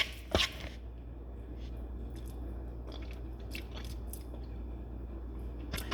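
Deviled eggs being bitten and chewed at close range during tasting: one sharp bite near the start, then soft, sparse mouth sounds over a quiet background.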